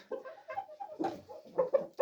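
A hen laying an egg clucks in a quick, uneven series of soft calls close by, with a few sharper notes near the end.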